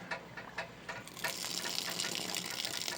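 Water gushes from the tap on a still making brandy from wine, starting with a few splashes and drips, then running as a strong, steady stream close by.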